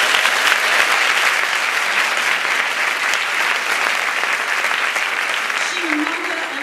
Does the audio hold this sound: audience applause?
yes